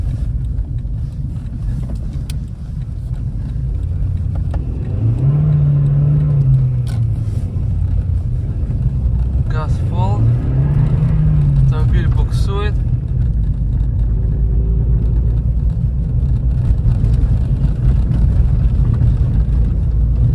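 A Toyota Auris E150 with an automatic gearbox drives along, its steady low engine rumble shifting pitch as the transmission changes gear, with a person talking over the car noise.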